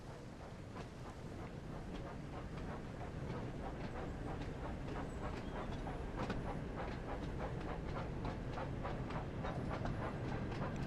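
Percy runs as a freight train in a Thomas & Friends video game, a steady rumbling rail clatter with rhythmic clickety-clack beats carrying on continuously at moderate level.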